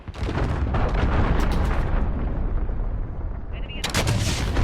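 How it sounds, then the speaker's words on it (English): Cruise missile strike in Call of Duty Modern Warfare sets off heavy, continuous booming explosions and rumbling blasts that fill the whole clip, loud and dense, with a brief sharper burst near the end. "cruise missile incoming."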